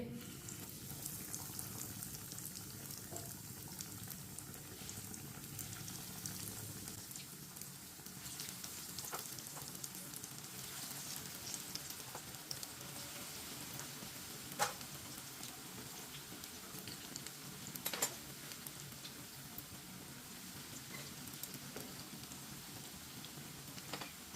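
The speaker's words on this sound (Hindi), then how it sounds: "ऑयल हमारा अच्छी तरह गर्म हो चुका है। एक एक ब्रेड पीस लेंगे, डालते जाएंगे।" Bread pieces fry in hot oil, giving a steady, continuous sizzle and crackle throughout with a few sharper pops, close and moderately loud with no talking.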